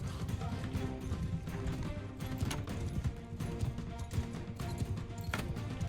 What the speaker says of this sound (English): I'm on a very loud horse